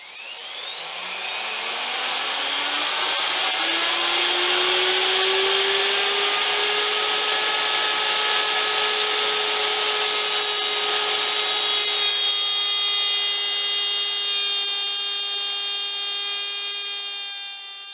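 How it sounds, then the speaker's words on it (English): A power tool makes a test cut on small Kolt380 pistol slide pieces, a steady loud whine rising in pitch as it spins up and then holding a sustained tone for the full run, with no talk. "I'll do a test cut on these pieces here to see if I'm close to where I need to be."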